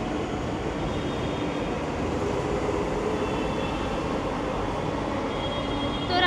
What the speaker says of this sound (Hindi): ये सामने वाली मेट्रो है